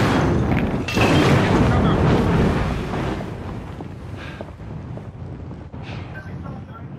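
Loud, dense video-game combat din with a heavy boom near the start and rumbling blasts that fit frag grenade and Molotov explosions, broad and continuous for several seconds, with gunfire-like crackle and some voice activity mixed in.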